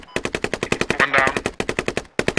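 Rapid automatic gunfire from the military shooter video game Squad, a loud close burst of evenly spaced shots firing steadily, with a brief pause near the end before the shooting resumes.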